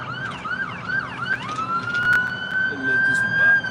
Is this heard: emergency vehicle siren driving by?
yes